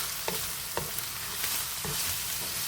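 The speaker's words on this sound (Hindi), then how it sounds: "हरी मिर्च को भी यहाँ से भून लेंगे" Green chillies fry with minced meat in a pan, giving a steady loud sizzle broken by a few soft stirring scrapes, with no voices.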